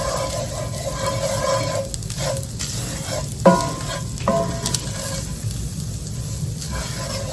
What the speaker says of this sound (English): I'm going to sprinkle in about a 1/4 cup of flour, stir that around, cook it for about a minute